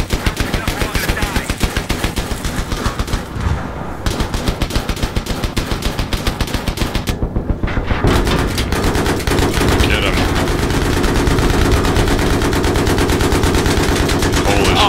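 Heavy .50 caliber machine gun fire in Battlefield 3 on the Back to Karkand maps, a dense, loud, rapid stream of shots running throughout, with brief gaps, and other battle noise swelling in the second half.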